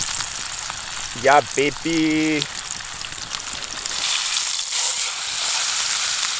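Salmon seasoned with salt and pepper fries in olive oil in a pan at a camp cooking setup, a steady bright sizzle running through the clip, with a brief spoken exclamation early on.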